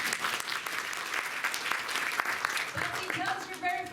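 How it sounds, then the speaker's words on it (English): Audience applause in a crowd at the Rhode Island Comic Con quick-draw event, dense steady clapping through the whole stretch with some voices mixed in, thinning slightly near the end. "Round of applause for Mark."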